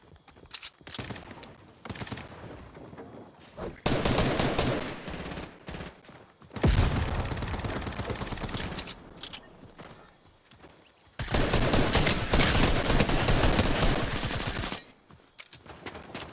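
Bursts of gunfire from a weapon in the video game Fortnite, three loud sustained volleys separated by quieter stretches of scattered shots and footsteps, with no speech.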